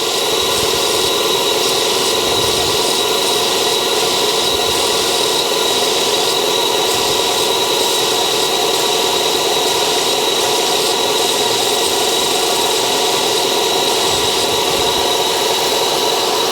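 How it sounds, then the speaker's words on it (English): A power sander runs steadily, rounding out a small part for a homemade camera mount, with a continuous loud whir and faint rattle throughout and no talking. "we're going to just let the sander sort of round these out a little bit"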